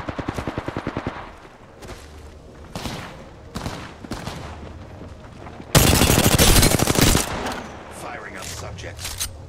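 Automatic gunfire and bursts of shots from Apex Legends gameplay come in several rapid volleys, with one very loud sustained burst near the end and quieter game sounds between them.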